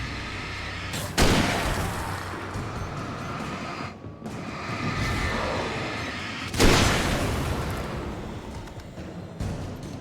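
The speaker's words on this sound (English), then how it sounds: "those aren't normal flashbangs" In the video game Alan Wake, flashbangs detonate as two sharp booms a few seconds apart, each followed by a loud, rumbling blast that fades between hits, with no speech.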